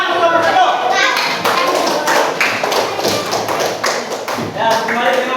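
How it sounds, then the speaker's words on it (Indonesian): Dense clapping for a group of participants at a classroom teacher-training session, a steady burst of many hands lasting several seconds with some talking mixed in. "Tepuk tangan untuk kelompok 1."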